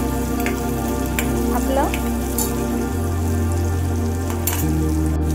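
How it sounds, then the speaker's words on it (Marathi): Chopped tomatoes and onion fry in a pan for a Maharashtrian flat bean curry, giving a steady close sizzle throughout while a voice speaks briefly over it. "टमाटो आपला फ्राय होतोय"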